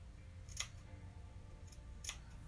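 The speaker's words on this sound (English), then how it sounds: "Let's snip that guy all through there." Scissors snip the fabric seam allowance of a sewn face mask, two or three quiet, crisp clicks spaced apart over a soft background hiss.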